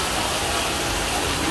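Rain-like water spray falls at the entrance to the Sea King Palace (Cung điện Hải Vương) on Phú Quốc, making a loud, dense, continuous rushing hiss with faint voices beneath.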